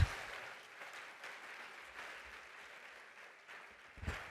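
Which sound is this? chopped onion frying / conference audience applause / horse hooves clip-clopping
conference audience applause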